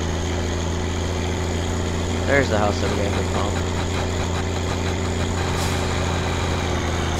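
A tractor engine in the driving game My Summer Car drones steadily at idle with a low, constant rumble, while someone talks over it briefly.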